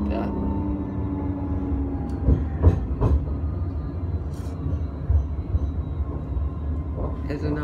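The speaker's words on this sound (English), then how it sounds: "There's another tram." A light rail tram rolls past on the Moore Park to Randwick line, a low rumbling wheel noise with a few clacks over the rails, heard under people chatting nearby.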